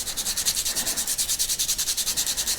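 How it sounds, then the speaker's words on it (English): Motorcycle brake pads from a Royal Enfield Meteor 350 are rubbed back and forth on sandpaper, a fast, even rhythm of close scratchy strokes with no talk. "we'll give them a bit of a sanding over"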